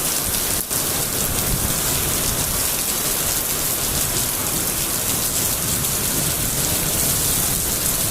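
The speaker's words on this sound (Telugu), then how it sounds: "చూడండి ఫ్రెండ్స్, ఎంత వర్షం వస్తుందో." Heavy rain pours down steadily and loudly in Bhuvanagiri during a thunderstorm, a dense continuous roar of drops hitting surfaces with one brief sharp crack near the start and no voices.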